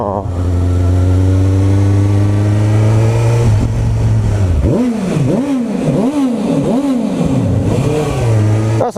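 A car engine droning steadily inside a tunnel, then revved hard several times in quick succession, each rev climbing and falling loud and close, before settling back to a steady drone.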